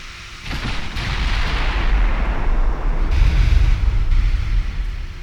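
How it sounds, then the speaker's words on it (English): Secondary battery guns firing at sea in Ultimate Admiral Dreadnoughts, heavy booming shots that swell into a loud, sustained rumble of artillery, with no talking. "Some secondary fire coming in."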